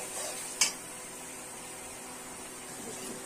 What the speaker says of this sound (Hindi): हमारा मसाला भून रहा है